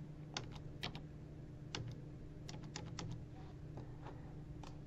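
Quiet clicking of keys on a computer keyboard as a student number is typed in to log in, a short irregular run of soft taps over a faint background hum, with no talking.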